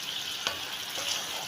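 Garlic and onion sauté in a hot pan with a close, steady sizzle and a faint stirring scrape, no voices over it.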